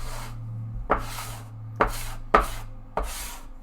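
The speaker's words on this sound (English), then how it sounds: "I'm going to go ahead with my bench scraper." A bench scraper drags across a work surface to clear off pasta dough, four or five sharp scraping strokes in an uneven rhythm, close and clear with no speech.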